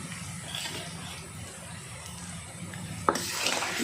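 Soft sizzling of onion and garlic frying in a pan while stirred, with a sharp utensil clink near the end.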